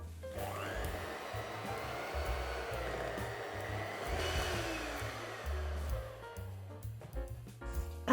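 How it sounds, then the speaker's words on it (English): Full-fat cream cheese and mascarpone being mixed until smooth for a no-bake Toblerone cheesecake make a continuous close motorized whir whose pitch shifts slightly as it works. "I'm going to mix this now until it's nice and smooth."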